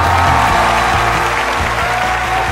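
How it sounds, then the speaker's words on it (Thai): A studio audience at The Voice Thailand applauds loudly and steadily, a dense wash of clapping that fills the short stretch without pause. "ปรบมือดังๆครับปรบมือดังๆครับ"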